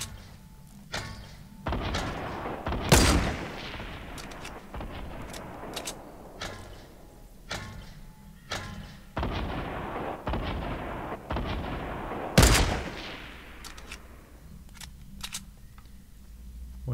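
Sniper rifle shots in the Fortnite Battle Royale video game, a string of sharp cracks with two loud, close blasts standing out among fainter shots and clicks spread over the stretch.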